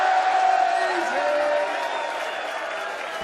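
A darts crowd cheering and roaring steadily after back-to-back 180s by Peter Wright in a European Championship quarter final, a dense, sustained wash of voices held at a constant level throughout.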